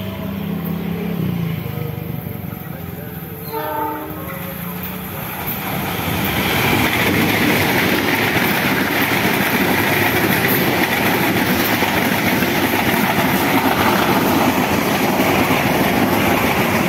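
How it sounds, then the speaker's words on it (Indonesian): Malabar passenger train, economy premium and executive class, departing Malang station for Bandung, with a loud, steady rumble of engine and rolling stock that swells and holds as it pulls away close by. "Itu dia kereta api Malabar tujuan Bandung dari stasiun Malang ya, akan segera berjalan"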